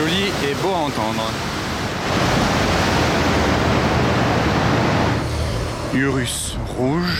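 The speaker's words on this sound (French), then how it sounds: "Je vous fais un petit peu de vidéo des vagues." Sea waves wash against the shore in Monaco as a steady, broad rush of surf, with people talking briefly at the start and end.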